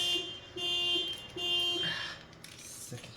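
A car alarm chirps and whoops in short repeated bursts at a moderate distance, then cuts off, leaving quiet background noise.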